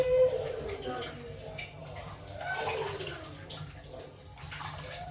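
Green gram, moong dal and rice being washed in water, swirling and sloshing with gurgling splashes in a vessel at close range, a voice faintly present beneath.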